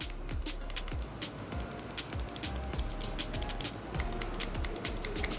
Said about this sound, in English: this sound is different when you try to press this button and this button